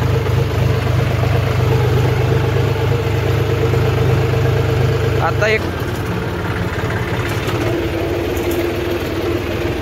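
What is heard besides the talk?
tractor engine running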